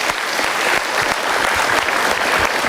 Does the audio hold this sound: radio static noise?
no